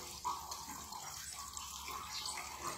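Water runs steadily from a spring spout at the Ibirá thermal baths, a constant soft splashing flow heard close and fairly quiet without pause.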